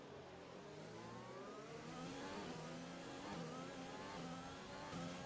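In the F1 2020 racing game, a Formula 1 car engine screams at high revs through a Grand Prix lap, with a continuous, dense whine that rises and falls through gear changes. The sound is steady and close, with no one talking.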